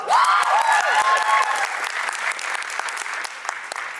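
At a dance competition, an audience applauds acrobatic dance performers with loud, dense clapping that fades slightly toward the end, joined by a few high cheers near the start.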